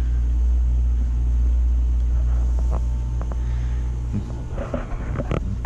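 A Takagi tankless water heater runs with a steady low grunt, a loud continuous low rumble with a few faint clicks and knocks near the end.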